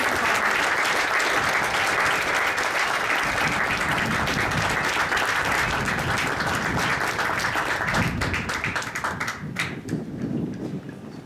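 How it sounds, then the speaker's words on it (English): A crowd at the Sheppard AFB Armed Forces Day parade applauds the 364th Training Squadron, loud continuous clapping that thins and fades out near the end. "Let's have a round of applause for the 364th Training"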